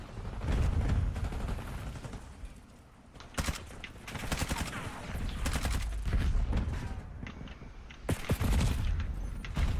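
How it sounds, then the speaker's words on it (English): Gunfire and explosive bursts in a Call of Duty match, with a concussion grenade going off amid dense, continuous shooting; sharp loud blasts stand out around the middle and near the end over a busy battle bed. "Concussion grenade out."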